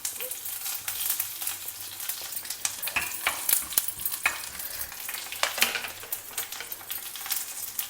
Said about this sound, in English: Heat a tablespoon of oil in a pan, preferably til oil, that is sesame oil. Add mustard seeds, urad dal